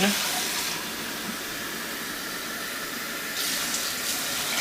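Tap water runs steadily into an empty soup pot for lentil soup, a close, continuous hissing rush that briefly changes tone as the flow shifts.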